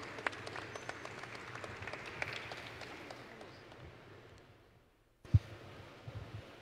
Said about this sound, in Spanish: brindémosle un fuerte aplauso aquí al doctor Óscar Alfonso Martínez